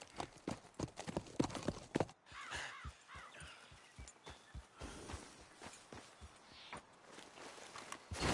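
In Red Dead Redemption 2, a horse's hooves clip-clop at a walking pace, crisp and fairly close, with ambient outdoor sounds and a few bird calls around them.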